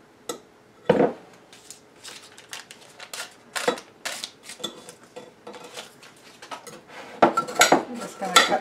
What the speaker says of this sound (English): we're going to add them to the mixture and cut through them with a knife to